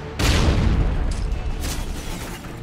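First-person shooter gunfire from a search-and-destroy match: a loud, close burst of booming shots at the start, then rattling follow-up fire that tails off over a couple of seconds.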